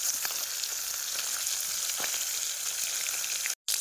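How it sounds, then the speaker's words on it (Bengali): Fish frying in hot oil in a pan (a kadai), a steady bright sizzle throughout, near and continuous, with a brief dropout near the end; no one speaks. "মাছ ভাজা হয়ে গেছে, তুলে নেবো এবার।"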